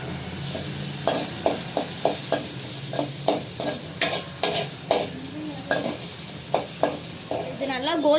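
Garlic sizzles steadily in hot oil while a spoon scrapes and stirs the pan in a regular rhythm, close and clear.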